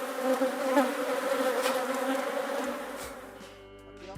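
Honey bees swarm around organic apiary hives in Huila, Colombia, producing a dense, close, continuous buzzing hum that fades slightly toward the end.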